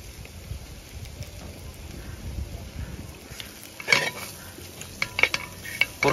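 A spatula stirs Kerala-style pork varattiyathu (pork fry) in a pan, with soft scraping over a low background hiss, then sharper metallic knocks and clinks in the second half.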